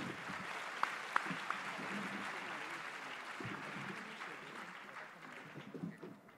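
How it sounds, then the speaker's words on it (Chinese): A crowd applauds after a free-debate round at a university debate final, a quiet, dense wash of clapping from a large hall audience that carries on steadily with a few sharper claps near the start. "我们再给双方精彩的自由辩论一个掌声"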